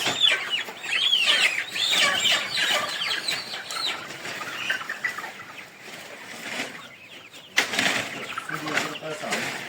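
A flock of Lohmann Sandy chicks cheeps and clucks nearby, with busy overlapping high peeping and scattered wing flutters, continuing beneath someone speaking.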